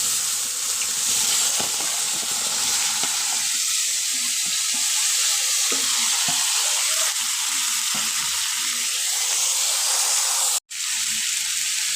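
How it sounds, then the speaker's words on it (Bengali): Sliced cucumbers hit hot oil with dried red chillies and nigella seeds, giving a loud, close, continuous sizzle and hiss with small crackles, briefly cutting out near the end. "এখন আমি তেলের উপর দিয়ে দেবো কেটে রাখা শসাগুলোকে"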